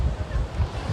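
Ocean waves roll onto the Indian Ocean shore at Dhanushkodi while wind buffets the microphone. A loud, rumbling wash of surf and gusts fills the brief moment, with no voices.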